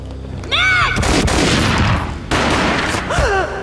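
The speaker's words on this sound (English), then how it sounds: "A gunshot boomed and she fell down in slow motion." Gunfire rings out in the Max Payne video game, a loud sharp shot followed by a rumbling burst, with brief whooshing game effects before and after.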